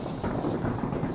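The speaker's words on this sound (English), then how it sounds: "Simon Says stomp your feet." Elementary school children stomping their feet on a classroom floor during a Simon Says game, a low, rumbling mass of irregular thuds blending into a continuous drumming.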